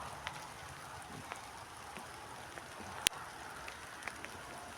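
Rain falls on a rose garden in a faint, steady patter with scattered louder drops and one sharp tap near the end, and no voices.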